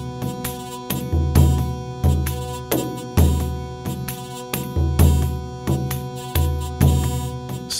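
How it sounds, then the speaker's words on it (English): Medieval-style ensemble where tambourines follow the frame drum rhythm, with steady jingling hits over repeating drum strokes and a sustained drone beneath, loud and continuous without any voices. "Basically, the tambourines will follow the rhythm of the frame drums,"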